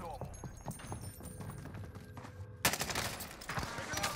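Sniper gunfire in Call of Duty Warzone, a sudden loud burst of shots breaking in partway through, over busy game noise and chatter from players talking throughout.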